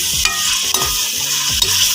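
Spices sizzle and scrape as they are stirred in a hot pan for black chickpea pulao, with a steady frying hiss and a few soft stirring knocks, close and alone.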